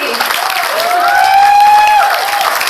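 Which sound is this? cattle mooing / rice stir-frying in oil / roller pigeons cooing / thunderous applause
thunderous applause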